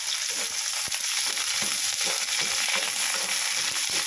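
Garlic fries golden brown in a pan for chicken adobo, giving a dense, steady sizzle with occasional stirring clicks, close and fairly loud with no voices.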